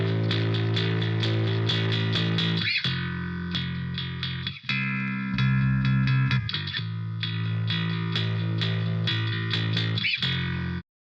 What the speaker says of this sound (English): what you could do is add some distortion